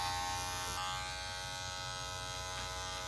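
Electric hair clippers with the lever halfway open, cutting a skin fade, a steady close continuous buzz with a harmonic hum, no talk.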